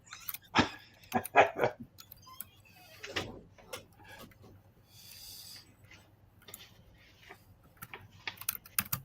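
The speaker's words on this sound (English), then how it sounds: "What are you typing, Bello?" Clicky computer keyboard typing comes in irregular bursts of sharp keystrokes, some close and loud, with pauses and light background hum between the flurries.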